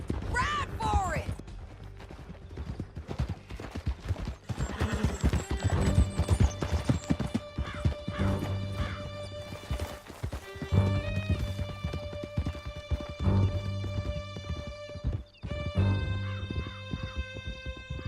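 Hooves pound in a fast, steady clip-clop as horses gallop in Red Dead Redemption 2. The hoofbeats run the whole time under a tonal music score, with occasional character voices and loud action cutting in.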